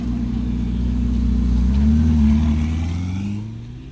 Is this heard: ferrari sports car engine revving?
yes